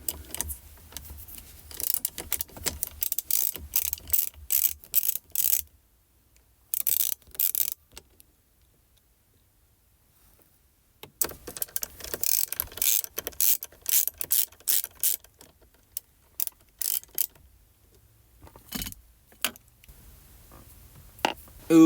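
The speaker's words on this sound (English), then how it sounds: "So I'm gonna need my Torx" Torx T20 driver loosening a screw on an SVT Raptor center console, giving rapid bursts of close ratcheting clicks in several runs separated by silent pauses.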